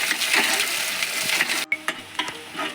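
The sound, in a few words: onions frying in oil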